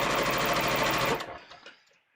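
A sewing machine stitches a muslin collar in a fast, steady mechanical whir for about a second, then stops abruptly, leaving a few faint clicks and quiet.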